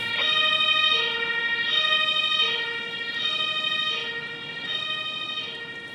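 Ambulance siren in the emergency-response video game Emergency, a loud, clear wailing tone rising and falling in repeated even cycles, heard alone.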